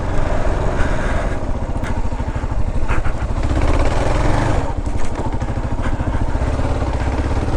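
A KLR 650 dual sport motorcycle rides a muddy off-road ATV trail, its engine loud and close in a continuous throbbing rumble with slight rises in revs.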